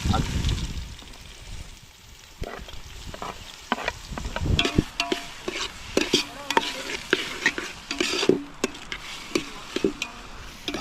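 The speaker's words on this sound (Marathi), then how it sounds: "कांदा थोडासा भाजला आहे टोमॅटो टाकून" Chopped onion fries in a pan over an outdoor seaside cooking fire, with a steady sizzle and repeated scraping stir strokes that come close and loud, and voices talking now and then over the cooking.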